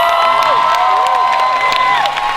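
An audience at a national social media awards ceremony bursts into loud, continuous cheering and applause, with shouts and whoops rising over a dense bed of clapping.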